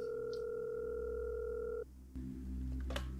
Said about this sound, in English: let's listen to the phone call